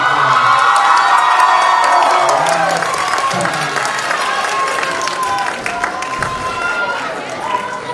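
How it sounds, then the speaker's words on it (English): A school performance crowd cheers and whoops loudly for seniors on stage, dense shouting and applause filling the room, with voices calling out over it. "make sure to cheer on for the seniors, since it is the seniors' last time performing on this very stage"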